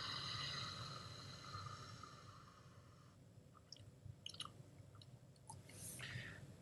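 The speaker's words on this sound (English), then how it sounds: "we've got him chewing as well, which are these two bits" Foley chewing of bubble gum: faint, close, wet smacking bites in a quick irregular run after a soft hiss, with no talking.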